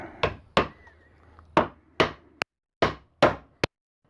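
A hammer drives a nail into a wooden soap mold propped on a 3/4 inch piece, giving sharp, close, separate strikes in an uneven rhythm, about eight blows with short pauses between them and no talk.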